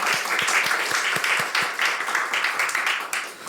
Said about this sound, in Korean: 여러분 큰 박수로 한번 환영해 주시기 바랍니다.